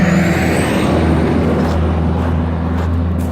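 A truck rolls past close by on the road with a loud steady engine rumble and broad road noise, and a faint high hiss that fits air brakes, with no talk.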